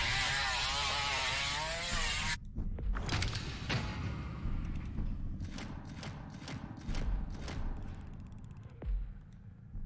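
A chainsaw revs up inside a horror video game, a loud buzzing motor roar with sharp revving bursts and thuds that runs for most of the moment after an earlier rising whine.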